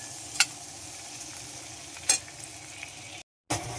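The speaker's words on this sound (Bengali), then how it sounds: "এখন কষানো হবে ভালো করে মশলাগুলো" Ground spices, including cumin, frying with a little water in a pan over high flame: a constant sizzle with a few sharp scraping stirs, and then a short silent gap.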